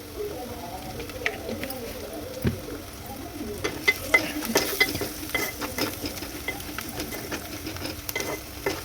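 Onions frying in a pan for Andhra-style chicken curry, a continuous sizzle with repeated scraping strokes of a spoon stirring, close and clear, with a voice briefly in the background.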